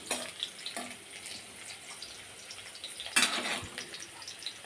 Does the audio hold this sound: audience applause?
no